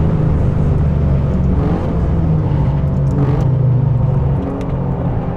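An Alfa Romeo Giulia Quadrifoglio with a V6 engine running on a racetrack gives a loud, steady, close engine roar that holds a constant droning pitch throughout, with no voices.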